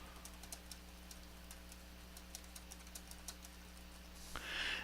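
Soft, quiet keystrokes tap irregularly on a computer keyboard as a case note is entered, faint clicks over a steady low hum.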